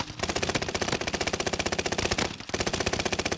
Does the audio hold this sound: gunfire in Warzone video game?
yes